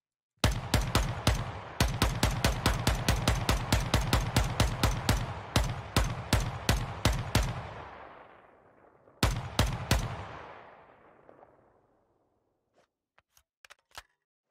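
Gunfire in the video game Ground Branch: a long string of sharp, evenly spaced single shots, loud and close with ringing tails, then a pause, a short second burst of shots and a few faint clicks.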